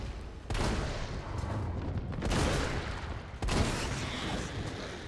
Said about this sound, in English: Just a good old-fashioned shotgun.